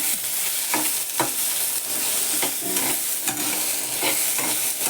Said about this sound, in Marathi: त्यातच कांदा टाकते दोन्ही एकत्र चांगलं भाजून घेते